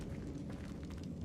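Bombarda spell explosion in Hogwarts Legacy, a quiet, low rumbling blast that stays steady and muffled through its short length, with no one talking.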